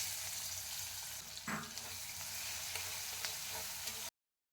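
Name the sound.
chopped onions frying in fish-frying oil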